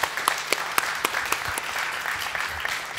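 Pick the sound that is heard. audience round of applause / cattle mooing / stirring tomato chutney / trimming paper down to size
audience round of applause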